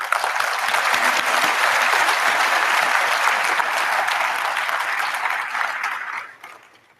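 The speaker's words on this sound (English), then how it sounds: "I think you can give them a round of applause" A graduation ceremony audience applauds steadily and loudly for about six seconds, a dense wash of many hands clapping that fades away near the end.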